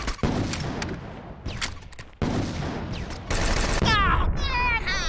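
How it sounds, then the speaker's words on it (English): A grenade launcher firing in the video game Fallout 76, with heavy booming bursts and crackling gunfire throughout, ending in a loud blast with a warbling tone; no speech is evident while it plays. "Where did you get a grenade launcher?"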